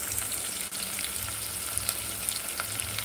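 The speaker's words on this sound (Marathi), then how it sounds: "छान भाजू द्यायचा इथे कांदा आपल्याला." Chopped onion fries in a pan in a home kitchen, a continuous close sizzle with scattered crackles and pops, heard alone without talk.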